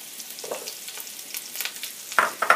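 A bay leaf and garlic fry in a pan with a soft, faint sizzle and light crackles, ending in a few brighter spits of oil.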